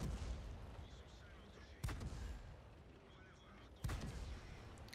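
Booming tank-gun shots ring out in a tank video game as HE shells hit a Scorpion. Two sharp reports stand out, about two seconds apart, over a steady, loud rumble of engine and battle noise.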